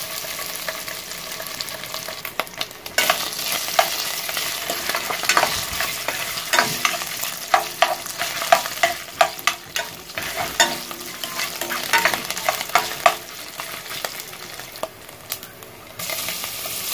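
Sliced longganisa sausage fries in hot cooking oil, giving a constant close sizzle broken by repeated scraping and clattering as the pieces are stirred in the pan.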